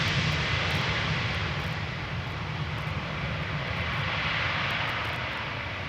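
A regular Airbus A319 on arrival at Amsterdam Schiphol Airport roars steadily with engine noise, a loud, continuous broadband rumble that holds for the whole stretch without any voices.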